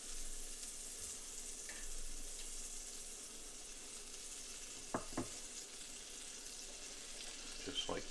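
Butter and flour cooking together in a pan, giving a soft, steady sizzle close by with a couple of faint clicks of a utensil against the pan. No one speaks.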